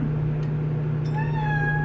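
A pet cat named Molly meows once, a drawn-out clear call close by, over a steady low hum in a kitchen.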